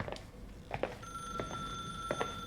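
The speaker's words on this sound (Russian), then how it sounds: "Кто-то уже звонит." A telephone rings inside the video game The Suicide of Rachel Foster, giving a few quiet, bright trilling bursts against a soft background hum.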